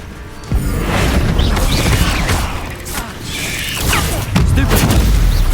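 Confringo fire spell blasts in the game Hogwarts Legacy, a dense run of booming explosions and clattering mechanical impacts, loud and continuous, with fresh hits near the start and end.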